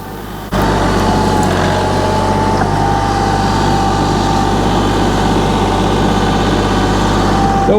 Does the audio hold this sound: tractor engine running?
yes